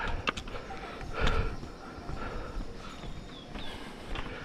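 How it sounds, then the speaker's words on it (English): Pack donkeys clip-clop along the Everest trail near a suspension bridge between Surke and Phakding, their hooves tapping in a loose, uneven rhythm close by over steady outdoor background noise. "we got a whole bunch of donkeys behind me, so I better hurry"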